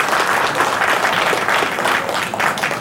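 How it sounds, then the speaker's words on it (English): A conference audience claps in steady, loud applause that holds evenly from start to end, with no voices rising above it. "Big round of applause sir के लिए."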